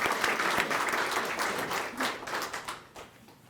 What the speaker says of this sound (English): So round of applause for Vanessa.